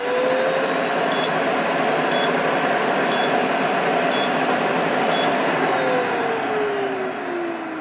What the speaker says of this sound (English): the machine will tell us when there's a problem and, you know, there's an obstruction in there, and that's preventing good extraction.